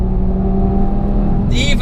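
An Audi TT RS Coupe's turbocharged engine drones loudly on a race track, a sustained close engine note with steady pitch, while a voice talks over it.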